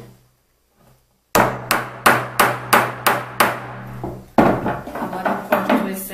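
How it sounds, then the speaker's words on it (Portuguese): Hammer strikes land in a steady series of about eight sharp, loud blows after a moment of quiet, followed by quicker, lighter taps close by. "a gente vai martelar ela"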